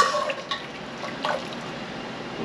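Liquid pours through a funnel into pickle jars being filled to the rim, giving a steady soft trickle with small drips and splashes, fairly close and alone without talk.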